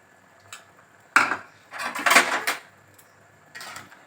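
Metal spoon clinking against a pot while salt is added to chicken keema, a few sharp, bright taps and scrapes separated by short pauses, close and fairly quiet.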